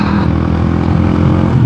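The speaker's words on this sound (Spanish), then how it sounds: "Esas motocicletas de Ducati me fascinan. Miren ese tablero, ese sonido." A Ducati Multistrada motorcycle engine runs loud and close with a steady, rich rumble that swells slightly as it passes, with no speech over it.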